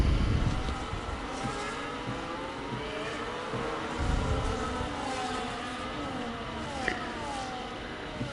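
F1 cars in the F1 25 racing game at Abu Dhabi roar down a long straight with DRS open, a steady dense engine drone with a faint passing whine, loud and continuous throughout.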